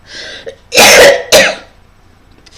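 A woman coughs and clears her throat in a couple of loud, harsh bursts close to the microphone, with quieter breathy sounds before and after.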